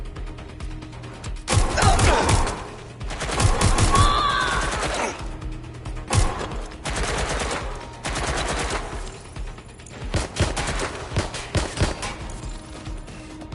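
Bursts of gunfire in the video game Watch Dogs Legion, with rapid automatic volleys and single shots in clusters over about thirteen seconds, loud and close against a low ambient game bed.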